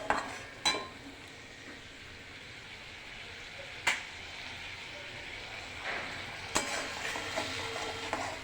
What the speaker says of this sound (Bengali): এটা ভালো করে মশলাটা কষিয়ে নিয়ে আমি গরম জল দিয়ে দেবো।